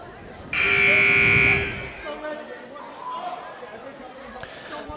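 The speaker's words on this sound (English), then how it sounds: "The buzzer sounds." A loud, harsh buzzer blares for about a second in a gym during a boys basketball game, followed by crowd murmur and a commentator talking.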